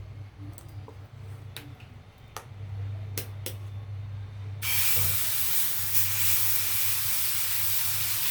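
Dosa batter poured onto a hot pan over low flame gives a sudden, loud, steady sizzle that fills the second half, following a stretch of faint ticks and a low hum.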